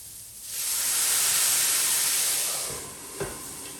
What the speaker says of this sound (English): It will make a lot of steam, so be careful.